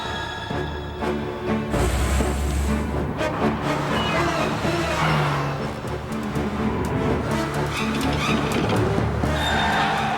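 A Honda Prelude in a TV advert, driving hard with engine roar, tire noise and skidding, loud and continuous, mixed with music and brief voices.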